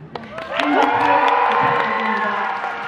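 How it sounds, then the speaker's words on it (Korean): A packed crowd of fans at a Busan International Film Festival screening talk for the film Broker lets out a loud, sustained roar of cheering and shrieks that swells in quickly and holds steady throughout. "진짜 부산 영화제 팬분들이 다 모이니까 이 정도의 함성이 나오는군요"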